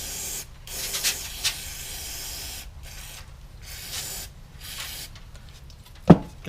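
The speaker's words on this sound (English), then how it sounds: "I'm going to start by just spraying off the outside a little bit." Several bursts of hissing aerosol cleaner sprayed onto the outside of a Craftsman 22-inch mulching mower carburetor, some short and some longer, with brief pauses between them and a sharp click near the end.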